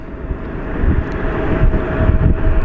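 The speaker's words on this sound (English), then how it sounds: "And our A319 coming in from Mazatlan." An Airbus A319 airliner landing at Phoenix Sky Harbor, with a loud, rumbling jet roar and steady engine whine close by, swelling slightly as it passes.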